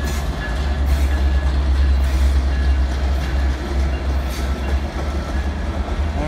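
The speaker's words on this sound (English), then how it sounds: "Amtrak Talgo unit in the lead, Amtrak 76, Cascades" Amtrak Cascades train with a Talgo unit passing 36th Street station in Charlotte, NC at slow speed, a steady loud rumble with rhythmic wheel clatter, continuous and close with no talking.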